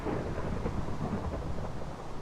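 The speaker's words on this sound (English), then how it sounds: "Thunderstorm. Well, that would have been pretty appropriate, wouldn't it?" A thunderstorm in the video game Minecraft gives steady, dense rain hiss mixed with low rolling thunder rumble throughout, fairly loud and continuous with no voices.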